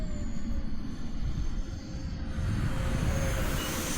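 A model NGAD jet aircraft in slow flight passes with a steady whooshing engine and airflow roar that swells slightly toward the end, heard from moderately close with no speech.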